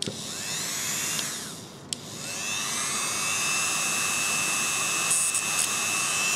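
A Dremel rotary tool with a felt polishing pad and polishing paste working on a Glock pistol at low speed, a steady close whine with a brief click near the start and slight pitch shifts as pressure changes.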